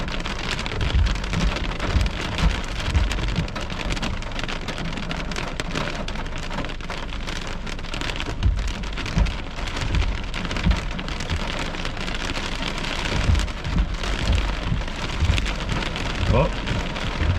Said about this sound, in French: Il y a de la foudre, il y a de la grêle aussi.